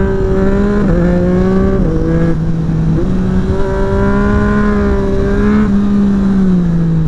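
A 2024 Yamaha MT-09 SP three-cylinder motorcycle fitted with an Akrapovic exhaust pulls hard, its engine note rising through gears with short dips at each shift, loud and close under steady wind rush, no speech.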